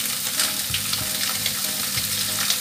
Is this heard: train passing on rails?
no